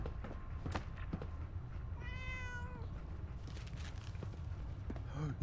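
A cat gives a single clear, drawn-out meow in the Fallout 4 video game, heard over a low, steady ambient rumble with faint footsteps and scattered clicks.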